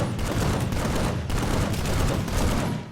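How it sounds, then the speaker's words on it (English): Carbine burst fire in the video game PlanetSide 2 crackles as a continuous stream of rapid gunfire with distant booms, dense and steady at moderate level, with no talk over it. "So I like the burst fire on it."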